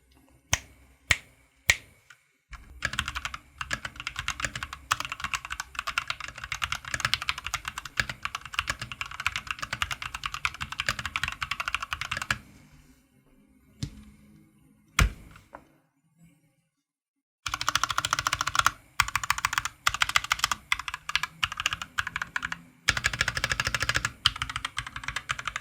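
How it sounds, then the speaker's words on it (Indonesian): Typing on a DAXA M64 Classic budget mechanical keyboard with a hollow tone: a few sharp separate clicks, then long dense bursts of rapid keystrokes broken by brief pauses, close and clear with no talking. "lebih baik kalian dengerin sendiri aja deh gimana typing test dari keyboard ini"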